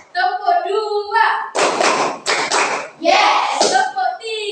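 A primary school class claps in unison on a teacher's count, a few loud group claps ringing out amid children's and the teacher's voices.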